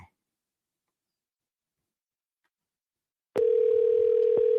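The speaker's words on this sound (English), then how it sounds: "if y'all can hear the dial tone ring" After a long silence, a steady telephone ringback tone starts abruptly and holds, clear and fairly loud.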